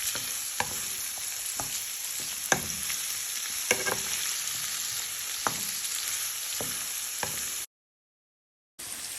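Onion and garlic fry in a pan with a steady close sizzle, broken by a few sharp stirring clicks and scrapes, before a short silent gap.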